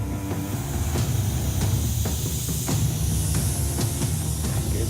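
Steady, loud hiss of air leaking from ventilation pipes deep inside a mine, a constant rushing noise with faint clanks and no voices.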